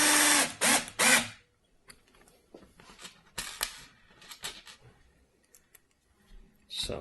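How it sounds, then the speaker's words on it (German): Short bursts of a power screwdriver driving screws into wood during furniture kit assembly, with several loud whirring pulses, then quieter clicks and handling noises between them. "Schraube ansetzen und eindrehen."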